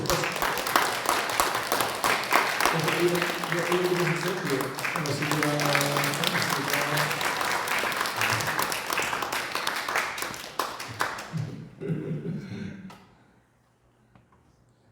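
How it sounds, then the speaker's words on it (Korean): A church congregation claps steadily for about twelve seconds while a voice talks over it, then the applause thins out and fades into near silence. "박수"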